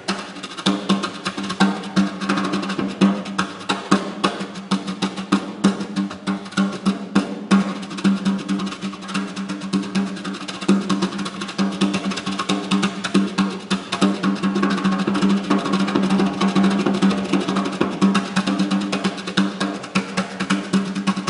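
Drummer playing a combined pattern of earlier rhythms with triplet figures at a live stage talk, a dense continuous steady groove of hits filling the whole stretch, loud and close with no talking.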